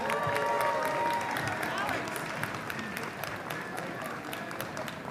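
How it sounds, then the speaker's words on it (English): Supporters applaud at a campaign rally after a runoff advance in the Chicago mayoral race, steady loud clapping with scattered cheers and crowd voices, gradually easing off. "Please, let's give her a round of applause."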